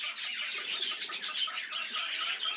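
Australian parakeets (budgerigars) chirping steadily in a rural setting, a dense, continuous chatter of bright, high twittering calls from several birds close by, with no talking.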